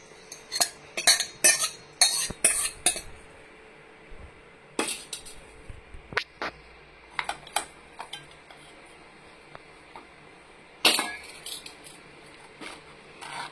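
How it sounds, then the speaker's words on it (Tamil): A spoon stirring gravy into brinjal chutney in a metal pan, sharp clinks and scrapes in quick clusters at first, then sparser taps and occasional soft squishes, fairly close and quiet. "இப்போ இந்த டைம்ல வந்து நம்ம இந்த இருத்து வச்ச இந்த கிரேவி இதுக்குள்ள மிக்ஸ் பண்ணிக்கலாம்"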